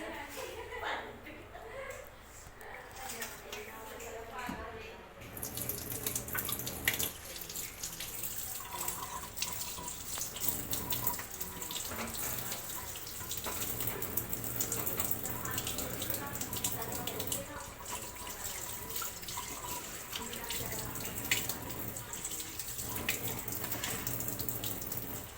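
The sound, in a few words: raw chicken being washed under running tap water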